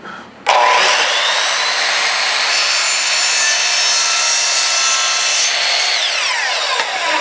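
A Ryobi TSS102L 10-inch sliding miter saw slicing through wood: the motor snaps on loud and close, holds a steady, bright whining cut for several seconds, then begins to spin down at the end.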